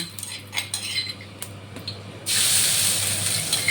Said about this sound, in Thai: เราก็จะใส่น้ำมันลงไปเลยค่ะ